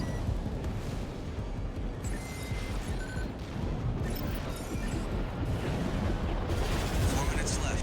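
Giant cannons in Armored Core 6 keep booming amid continuous heavy gunfire and explosions, a dense rumbling barrage throughout with voices talking over it.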